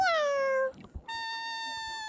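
A person imitates a cat with a drawn-out, falling meow, followed after a brief pause by a second, steadier meow-like tone, close and clear.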